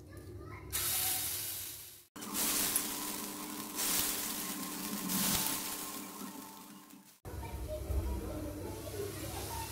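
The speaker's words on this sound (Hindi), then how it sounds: "ये जो टिक्की है बढ़िया से फ्राई हो रही है" Moong and spinach tikki kofta frying in hot oil, a dense steady sizzle and hiss that cuts out twice briefly before resuming, close and fairly soft.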